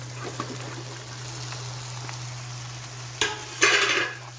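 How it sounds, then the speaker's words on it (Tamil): Sliced okra tipped into onions frying in hot oil, a steady low sizzle with a louder burst of crackling spitting near the end as the vegetables hit the pan. "இப்போ நான் அரை கிலோ வெண்டைக்காய் கட் பண்ணி வச்சுருக்கேன் இப்போ வெண்டைக்காயில் சேர்த்துக்கிடுவோம்"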